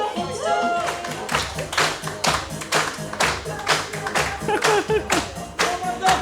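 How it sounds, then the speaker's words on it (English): Audience at a staff graduation ceremony clapping in a steady rhythmic beat, moderately loud and close, with music and faint voices mixed in. "we clapped along with you"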